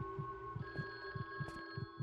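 Telephone ringing in a horror video game: a steady electronic ring tone sounding continuously while low, regular throbbing pulses beat underneath like a heartbeat, fairly quiet and ominous.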